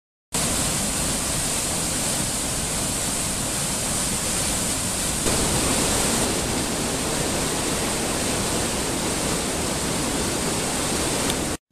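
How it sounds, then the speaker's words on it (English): A rushing river along a rain-soaked hiking trail near Girdwood, Alaska, roars as a dense, steady broadband wash, loud and continuous with no voices. "along the hike back to the hotel, I was treated to rushing river after river"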